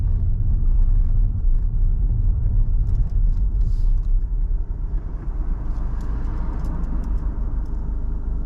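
Car engine rumble while driving slowly in busy traffic on an old Manchester road, a steady low drone with slight shifts in pitch as the gear drops, continuous and close with no talk.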